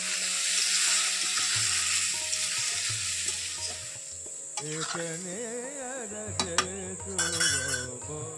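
Spices sizzle and fry in a little oil in a pan, a steady hiss through the first half that eases off, then softer sizzling with clinks and scrapes of a utensil stirring against the pan.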